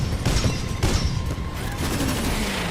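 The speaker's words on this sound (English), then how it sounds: "Did that Ronin just walk in a straight line and all of my missiles just missed?" Missile volleys fired at a Ronin titan in Titanfall 2, a dense, loud barrage of booming launches and blasts rolling over a steady rumble of battle noise.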